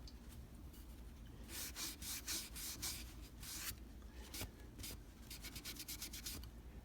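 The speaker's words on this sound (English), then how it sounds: "we're going to run over that with an acetone again" A cloth soaked in acetone rubs over a factory-finished surface to lift paint splatter, making close, soft scrubbing strokes in quick back-and-forth bursts with no talking.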